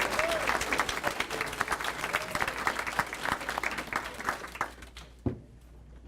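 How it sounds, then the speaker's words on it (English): Crowd at a city volunteer appreciation celebration giving a round of applause, steady clapping that thins out toward the end, with faint voices underneath. "so give yourselves a round of applause"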